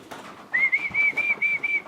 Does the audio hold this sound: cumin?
no